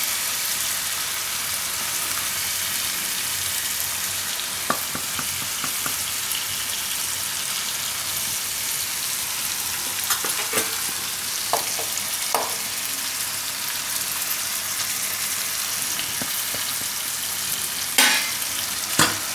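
Ginger and green chili paste fries in hot oil in a pan, giving a continuous dense sizzle with occasional sharp crackles and stirring clicks, loud and close throughout.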